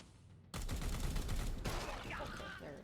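Rapid bursts of weapon fire in the video game WH40k: Chaos Gate - Daemonhunters, a dense volley that starts abruptly and rattles on loudly for a couple of seconds before tapering off.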